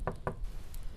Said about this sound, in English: Another knock at the door